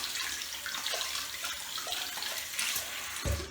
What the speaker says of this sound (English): I've started just giving them a rinse under a bit of hot water